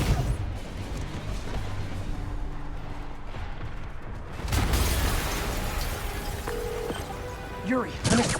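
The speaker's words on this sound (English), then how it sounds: "an explosion just..." A video game explosion in Spider-Man Remastered erupts midway as a heavy booming burst that rolls into sustained rumbling debris, amid a soundtrack of ambient game sound with voices speaking.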